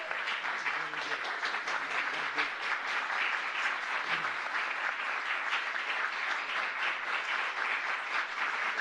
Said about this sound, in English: I'm sure you're clapping because I finally showed up.